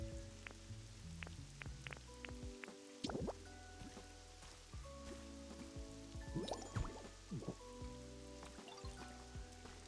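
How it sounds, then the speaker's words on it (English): Rain falling in the Pokopia video game, a steady soft patter of drops with scattered drip-like ticks, overlaid by gentle game music tones throughout. "We can't light that though because it's raining and Charmander won't come out."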